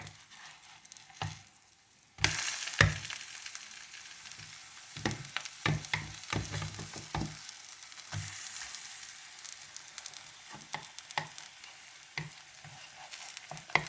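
Banana fritters made with ripe bananas and honey sizzling in a frying pan, a steady close crackle of hot oil that jumps louder as they are flipped, with scattered scrapes and taps of a utensil.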